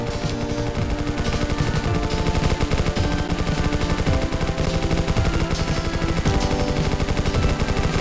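Constant dense gunfire from the Roblox game PGTD, loud and sustained with overlapping rapid shots throughout and no talking.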